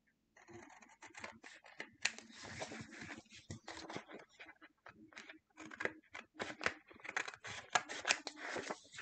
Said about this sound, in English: I'll just trim with scissors